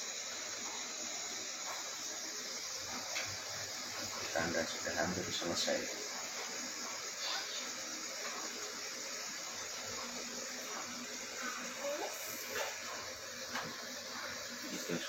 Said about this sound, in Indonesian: Nah, uap air sudah mulai merata.